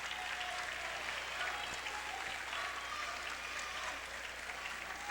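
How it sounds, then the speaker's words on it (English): High school basketball crowd at a PIAA AA state final applauding steadily, a broad even wash of clapping heard from a distance across the gym for about five seconds. "And the Tide fans giving them a nice round of applause."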